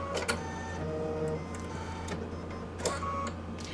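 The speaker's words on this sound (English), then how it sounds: "All you need to do is press the thread your needle button." Automatic needle threader of a sewing machine operating, a series of brief mechanical clicks and whirs spread across a quiet hum, close and fairly faint.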